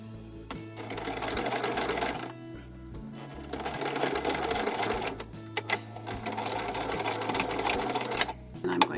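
A sewing machine stitches elastic onto a fabric safety mask in steady whirring runs, pausing briefly between bursts, close up and loud with no talk.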